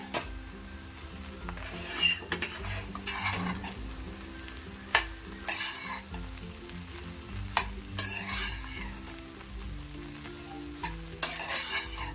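A spoon stirs poha with fried onion and peas in a pan, repeated scraping strokes over a soft sizzle, with intermittent bursts of clinking and scraping at fairly regular intervals.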